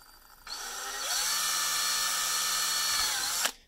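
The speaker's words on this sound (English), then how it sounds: "all you do is you just put this drill as close as you can to the hole, and then drill a hole" Power drill boring a hole during an EEW Nano motor install, starting with a short whir, then a steady loud high-pitched drilling drone for about two and a half seconds before stopping abruptly.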